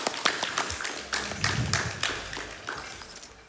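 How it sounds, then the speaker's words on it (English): A live audience claps after a clean fight in a Marvel's Spider-Man 2 speedrun at a Summer Games Done Quick event, sparse uneven claps and taps in several bursts, moderately loud over a low background. "claps."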